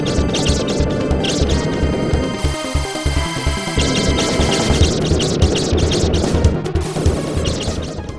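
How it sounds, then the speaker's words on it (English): A loud, roaring flamethrower blast in Contra: Hard Corps hisses and crackles steadily, with a brief pause in the middle before the roar resumes amid clattering game noise. "Listen to the realistic sounds coming from the flamethrower."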